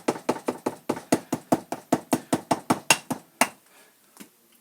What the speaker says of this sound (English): just tap it both sides, keeping it even all the way through to tighten it up